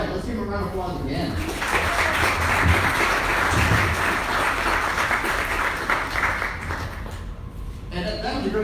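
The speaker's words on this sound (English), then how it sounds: "let's give them a round of applause again." An audience at a meeting gives a round of applause, a dense burst of clapping lasting several seconds before fading, with voices talking at the start and end.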